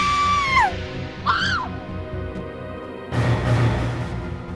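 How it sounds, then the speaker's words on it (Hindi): A woman screams in a Hindi crime drama scene, two rising-and-falling shrieks in the first second and a half, followed by a louder, noisier burst of commotion near the end. "तो फिर वो क्यों चिल्ला रही है?"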